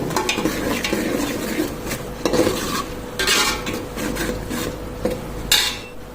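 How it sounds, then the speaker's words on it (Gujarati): Ginger being stirred quickly in a pan while making Rajasthani dal for dal bati, with scraping strokes and clinks of a utensil against the metal over a steady soft sizzle, close and fairly loud, with no talking. "આદુ નાખ્યા પછી થોડુંક હલાવવાની કાળજી રાખવી નહીં તો આદુ બે નીચે બેસી જાય છે એટલે થોડુંક આપણે ફટાફટ ચલાવવાનું રાખવું"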